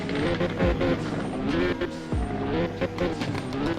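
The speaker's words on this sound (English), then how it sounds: "Let's hear the rev sound. Take a listen." Car engine revving in the Realistic Car Driving video game, a new supercar or hypercar: a steady, loud synthetic engine drone with layered harmonic tones rising and falling slightly over a few seconds.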